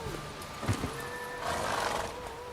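Roach the horse lets out a short whinny in Witcher 3, a brief neigh alongside a few hoof clops, moderately near over quiet game ambience.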